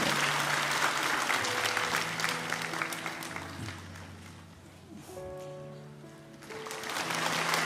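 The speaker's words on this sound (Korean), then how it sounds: "우리 박수로 이 아이를 축복합니다." Church congregation applauding to bless a child during a Sunday worship service, a steady broad clapping that holds full then eases, while soft organ or keyboard chords sustain underneath.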